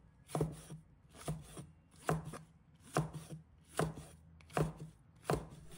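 A knife chops red chili peppers into small pieces on a cutting board, seven crisp, evenly spaced knocks close to the listener, with a faint scrape after each stroke.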